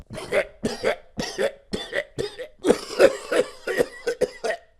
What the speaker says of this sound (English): Oh, it's my first throw-up cough.